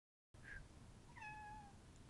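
A cat meows once, faintly and briefly, then gives a longer, clear descending meow, both close by against steady low background hiss.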